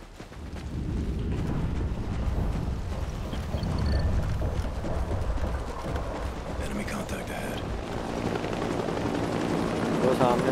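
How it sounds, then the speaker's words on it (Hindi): Helicopters fly past in the Call of Duty Ghosts mission No Man's Land, a steady rotor-like rumble running under constant battle noise and game effects throughout. "वो सामने से हेलीकॉप्टर इस वक्त जा रहे हैं"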